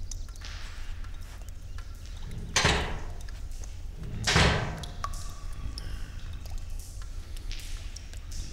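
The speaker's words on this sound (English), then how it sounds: "Oh, and hey, shut that door behind you." A door swings shut twice with two dull thuds a couple of seconds apart, heard against a steady low background hum with no talking.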